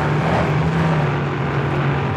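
A steady, loud engine drone with a low hum holding throughout, like a motor running hard nearby, no voices over it.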